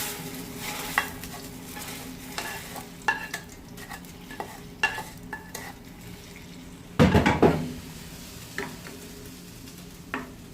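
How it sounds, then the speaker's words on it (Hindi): Fried vermicelli is stirred into boiling water in a pot, giving a bubbling, sizzling bed with repeated scraping clicks of a spoon against the metal and one louder clattering burst, no voices. "इनको उबलते हुए पानी में शामिल करते हैं।"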